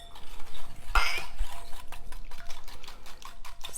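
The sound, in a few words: stirring coleslaw dressing with heavy cream in a bowl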